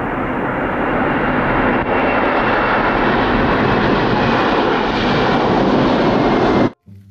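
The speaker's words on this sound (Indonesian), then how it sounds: "Lihat, teman-teman, ada pesawat terbang." A fixed-wing airplane passes overhead, its engine a steady, loud broadband roar that holds for about seven seconds before cutting off abruptly near the end.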